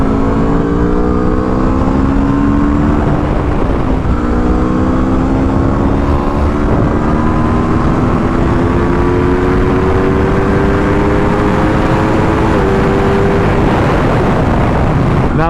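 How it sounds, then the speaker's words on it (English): 2021 Aprilia RSV4 1100 motorcycle engine wailing loud and close through a long high-revving run, pitch stepping down in several abrupt drops as it downshifts, with a steady roar underneath. "The downshifts are some of the best downshifts on any bike that I've ridden now."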